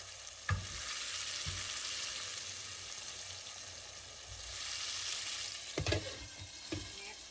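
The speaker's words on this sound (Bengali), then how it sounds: "এখন ঢাকনাটাও তুলে একটু নেড়ে দিচ্ছি" Tomato chutney sizzling and frying in a pan with a steady hiss, broken by a few brief scraping knocks as the lid comes off and the mixture is stirred.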